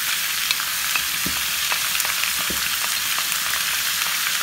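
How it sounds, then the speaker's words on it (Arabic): Meat and onions fry in a pot for taro stew, a dense continuous sizzle with small pops and a couple of clear stirring knocks, close and steady. "هنزل بقى اللحمه بقى ايه بالبصل بتاعي كده"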